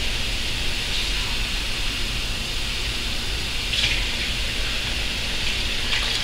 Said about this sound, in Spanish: Bien, le echamos 3 tazas de agua